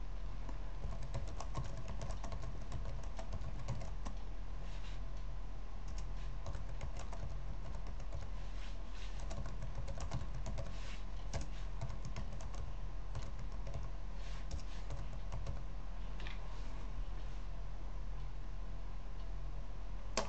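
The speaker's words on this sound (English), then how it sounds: "Then I will open the box to type the letters in" Steady, fast clicking of keys on a computer keyboard as text is typed, continuous and close with a low hum underneath and no talking.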